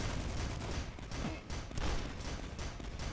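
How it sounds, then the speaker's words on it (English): Riveter shots fired in the retro shooter DUSK, a dense run of loud, rapid booming blasts packed together across the whole stretch, no talk. "you can just shoot a few riveter shots at him"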